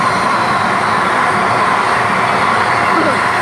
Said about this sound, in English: How fast is the train?